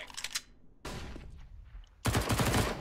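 Bursts of gunfire in CS:GO, where a Desert Eagle is in use, come in three loud, close clusters of rapid shots separated by short gaps, with no voices over them.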